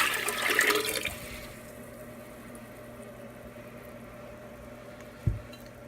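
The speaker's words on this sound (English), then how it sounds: "So you pour the first jar in." Mineral salt solution pours from a jar in a short gurgling splash at the start, then a quiet low hum lingers, broken near the end by a single soft thud.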